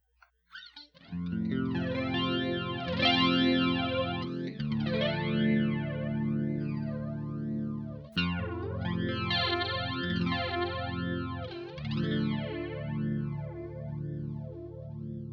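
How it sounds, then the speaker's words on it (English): Guitar run through the flanger on an MD-200 modulation pedal, set close to the Mobius gray mode: sustained chords with sweeping, jet-like comb-filter swoops rising and falling in steady cycles, loud and alone with two brief pauses. "The flanger on the MD-200 is probably closest to the gray mode on the Mobius."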